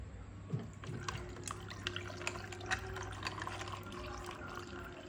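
Homemade Jamaican ginger beer, made with backyard ginger, is poured into a glass of ice cubes, a soft continuous trickle and fizz with small clinks and splashes, heard close and quiet with no talking.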